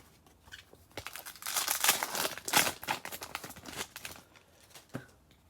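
Foil wrappers of Zendikar Rising booster packs crinkle and tear open close by, a busy flurry of rustling and ripping that peaks in the middle and fades to a few soft handling sounds.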